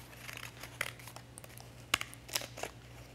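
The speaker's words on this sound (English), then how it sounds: "That's when we're going to use some pinking shears." Pinking shears with a zigzag blade snip around the edge of painted paper, giving soft scattered clicks and crisp cuts at an irregular pace, close and quiet, with no talking.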